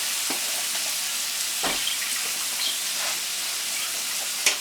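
Garlic sizzles loudly in a hot frying pan, a dense steady hiss with a few soft clicks and stirring knocks, close up and alone.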